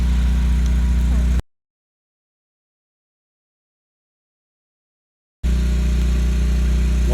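A Westinghouse WGEN12000DF dual fuel generator runs with a loud, steady engine drone, then cuts to complete silence for several seconds before the same close, constant hum returns.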